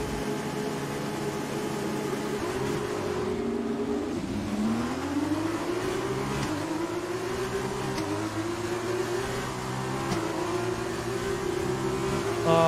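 An F1 car engine in the F1 2020 racing game revs steadily at the race start at Monza, a continuous loud high whine that climbs and sweeps upward in pitch through the run, with no talking.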